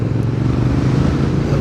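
Motorcycle on the move with a steady low engine drone and some wind rumble, loud and close from start to finish with no speech.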